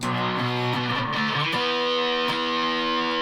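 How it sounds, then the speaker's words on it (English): A heavily distorted piccolo bass plays thick, sustained power chords, loud and close, with a few chord changes and no voices. "with the strings like this, you can actually play power chords"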